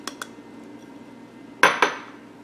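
Zucchini bread batter being mixed in a bowl: a few sharp clinks of a utensil against the bowl, two faint ones early and two louder ones close together near the end, over near silence.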